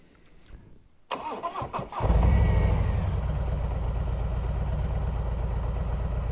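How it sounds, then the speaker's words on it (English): A tuned car engine cranks briefly and catches, then settles into a steady, close, even idle that runs on to the end with no talking. "So now it's idling beautifully."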